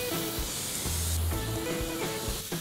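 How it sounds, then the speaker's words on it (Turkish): Beef tenderloin sizzles inside a closed OptiGrill electric contact grill, a continuous loud hiss and spatter heard close up over background music, with no one speaking. "Cız sesini duyuyorsunuz."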